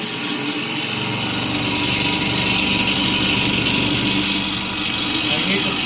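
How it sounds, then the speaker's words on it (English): An induction motor on a test bench runs with a loud, steady whirring drone that holds evenly from start to finish. "induction motor is running."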